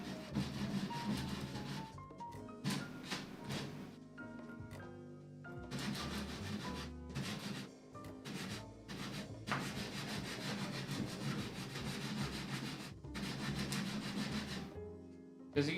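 Sandpaper worked by hand over wood for a folding tray table, long rasping strokes in bursts with short pauses, close and fairly loud, no talk.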